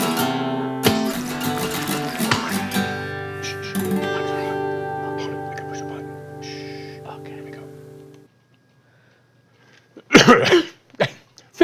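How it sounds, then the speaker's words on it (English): A woman coughs and clears her throat in a short cluster of bursts near the end, following a stretch of other room sound, close and loud, during a live acrylic painting tutorial. "Right when it's going to go live, I have to cough."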